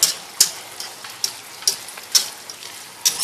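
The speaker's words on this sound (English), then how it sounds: "just keep on stirring it" Spinach stirred in a pan on the stove over medium-low heat, giving a steady soft sizzle broken by about seven sharp scraping strokes spaced roughly half a second apart, close and alone.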